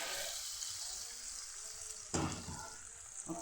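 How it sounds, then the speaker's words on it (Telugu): Hot tempering oil sizzles over gongura pickle in a continuous hiss, then a louder crackling burst as more goes into the pan, before settling back to a steady fry. "గోంగూర పచ్చడి తాలింపు పెట్టాను"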